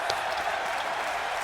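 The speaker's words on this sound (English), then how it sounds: "The crowd is going absolutely wild from this final" Loud arena crowd at a live tabletop roleplaying show, cheering and applauding in a dense, continuous roar that fills the whole moment without a break.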